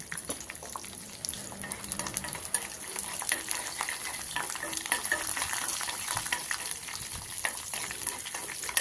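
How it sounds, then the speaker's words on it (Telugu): A tempering of chana dal, peeled garlic cloves and a cut dried red chili sizzles steadily in hot oil in a pan for palak dal, a close continuous crackle with light stirring. "1 ఎండుమిర్చిని కట్ చేసుకుని వేసుకుని పోపుని దోరగా వేయించుకోవాలి."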